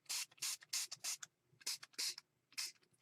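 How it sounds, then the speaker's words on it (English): A spray bottle mists colour onto sheets of junk-journal paper in about nine short, sharp hissing bursts, near and fairly quiet, with brief pauses between them. "I'm just spraying all over"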